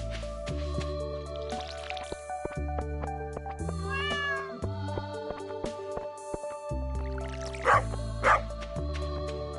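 Cats meow repeatedly in the farming game Stardew Valley, short bright mews popping over a looping game music track, with a couple of louder calls near the end.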